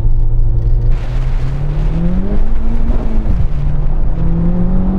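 A Honda Civic Type R launches off the line in a drag race, its engine note loud and rising steadily through the gears with a brief dip at a shift, close and continuous with no talking.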